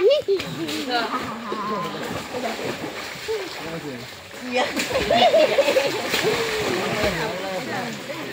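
Splashing and sloshing water as people bathe in a village pond, intermittent splashes heard beneath near-constant talking and children's voices.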